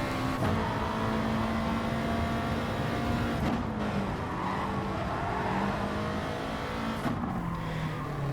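Several Gr. 3 race car engines in a video game roar and rev together at high pitch at the start of a race at Suzuka Circuit, a dense racing drone with brief shifts in tone, loud and continuous without speech.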